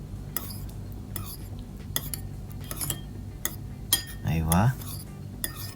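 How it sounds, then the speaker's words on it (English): A vinegar-based sauce for spicy tofu being mixed in a bowl, with a utensil clinking and scraping against the bowl in repeated short strokes at close range, and a brief quiet word spoken near the end. "Then we're gonna mix it just like this until we get a good consistency."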